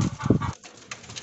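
Fancy pigeons perched up high in a cage coo in a few soft, low, throaty pulses during the first half-second, followed by quieter rustling and background noise.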